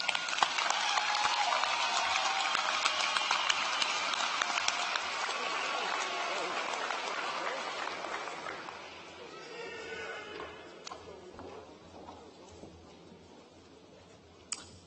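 Graduation audience at Shadle Park High School's 2018 ceremony applauds in a large hall, a dense, loud wash of clapping that gradually thins and fades into scattered claps and crowd murmur.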